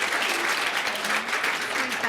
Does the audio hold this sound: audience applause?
yes